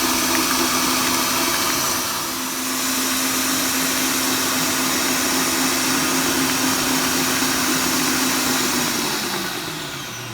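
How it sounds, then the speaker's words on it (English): A KitchenAid-style electric stand mixer runs on full power whisking cake batter for a chocolate fondant, a loud steady motor whine with a sustained hum that holds throughout, dipping briefly once, with no talking. "it's easier if you've got a little KitchenAid or a mixer. So this is on full power, and we're really going to get some air into this mix"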